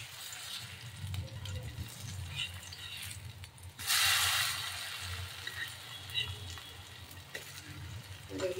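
A potato and wheat snack fries in a pan with a soft, steady sizzle, quiet and close, as it is flipped over. A brief louder hiss bursts out midway.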